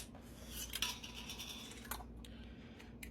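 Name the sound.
canning jar lids and rings being put on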